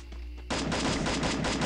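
Rapid automatic gunfire in a shooting video game bursts in after a quiet moment, a dense rattling volley of shots repeating steadily at close range.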